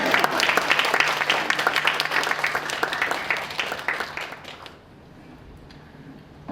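A lecture audience breaks into dense applause, many hands clapping loudly for about five seconds before it abruptly stops, leaving a quiet hall with faint room noise.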